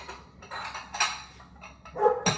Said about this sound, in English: Bark, bark, bark, bark, bark.